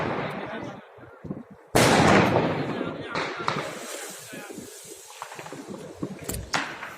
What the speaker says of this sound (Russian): Сейчас уже там помалу запускают салюты.